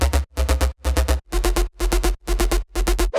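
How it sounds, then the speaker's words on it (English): A gritty bass house synth bass from the B part of an anime-style FL Studio track pumps in steady, sidechained bursts, each bright, buzzing note block ducking rhythmically over a sustained low end, loud with no talk. "And the bass in the B part sound like this."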